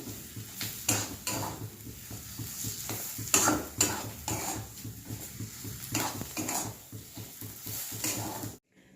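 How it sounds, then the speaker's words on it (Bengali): A fried spice mix being stirred and scraped in a pan for potato paratha filling, with repeated clinking strokes of a spatula over a soft sizzle, close and steady. "এবার এইটা দিয়ে নেড়ে চেড়ে আমি নামিয়ে নেবো"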